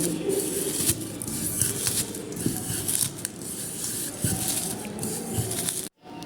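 Hands squish and rub onion, green chili and spices together in a big bowl, giving close, wet, irregular kneading and patting sounds that run continuously, with a brief drop near the end.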